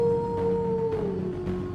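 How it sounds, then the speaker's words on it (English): A lone canine howl rises as a steady, sustained tone that bends slightly downward, carried clearly over a low background, suggesting a wolf or dog calling in a magic forest tale. "a howl was heard in the distance."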